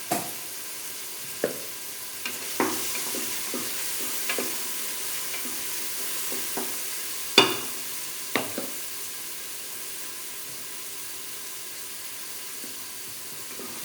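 Masala for chicken biryani, with turmeric powder added, is stirred and fried in a pan, giving a soft steady sizzle broken by scattered sharp clicks and scrapes of the spoon, fairly quiet and close.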